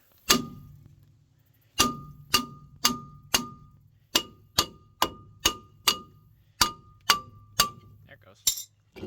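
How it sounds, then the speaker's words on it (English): Hammer blows ring out on a rusty front suspension part of a 1990 Dodge Grand Caravan, about a dozen sharp metallic clanks with ringing decay, spaced irregularly roughly a second apart, close and loud. "That's my hammer."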